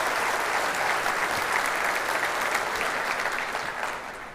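Steady, dense audience applause at a corporate cyber protection summit keynote, loud and even throughout before easing off slightly at the close.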